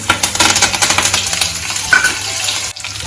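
Cumin seeds and curry leaves crackle and sizzle in hot oil for a potato dry sabzi, a dense bright hiss with a few sharp pops and a brief clink, fairly close and loud, dropping off near the end.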